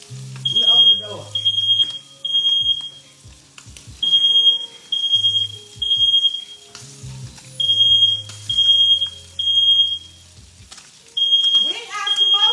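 Smoke from frying potatoes and onions sets off a kitchen smoke detector, which beeps loudly in a steady pattern of bursts for several seconds. Voices are heard between and over the beeps.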